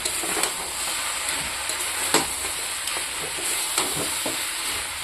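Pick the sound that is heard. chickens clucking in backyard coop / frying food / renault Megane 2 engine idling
frying food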